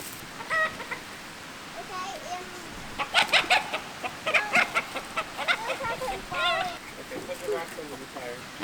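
Chickens cluck and squawk in a busy, irregular chorus, some calls rising sharply, with a rooster-like cry among them and low background noise.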